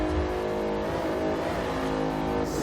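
Bentley Continental GT engine in Forza Horizon 2 holding a steady high-rev drone in top gear on a highway, loud and continuous with a slight pitch wobble and no talk.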